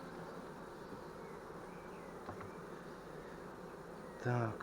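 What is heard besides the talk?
honey bees buzzing while shaken off a hive frame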